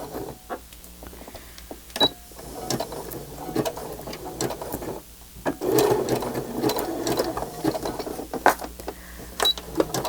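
A sewing machine stitching a line along the cover of a fabric journal, with runs of fast mechanical clatter, pauses and small clicks, heard close and alone.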